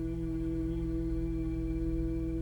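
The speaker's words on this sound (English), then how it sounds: "And bee's breath, of course, is Brahmari breath." A single steady hum held on one low pitch during bee's breath (Bhramari breathing), soft and unbroken, with no talking.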